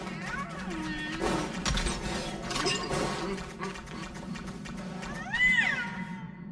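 A cat meows in the game Honkai: Star Rail, a clear mewing call heard a couple of times over soft background music and game sounds, with a brief crash near the start.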